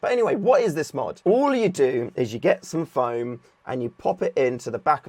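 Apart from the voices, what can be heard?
No everyday noises stand out.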